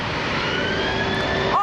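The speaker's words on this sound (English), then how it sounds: "That was a go around because there's an Embraer 190 taking off." A Lufthansa Airbus A340-600 jet going around, its engines a loud, steady roar with a rising whine, heard close for a short stretch without talk.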